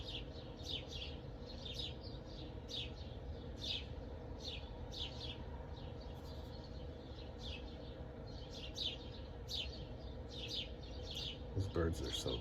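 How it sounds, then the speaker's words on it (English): Birds chirping outdoors near a bird sanctuary, repeated short high tweets at an uneven rhythm, fairly faint over a steady low background hum. "Those birds are so beautiful."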